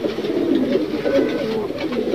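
Pigeons coo at feeding time, their low rolling calls repeating steadily and close, loud and continuous, with no voices.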